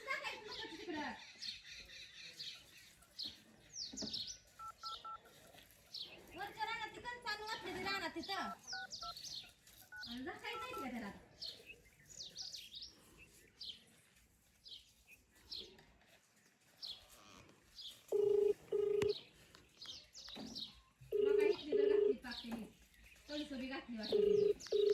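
Telephone keypad tones beep in short bursts near the end, following a stretch of people talking over light outdoor chirping.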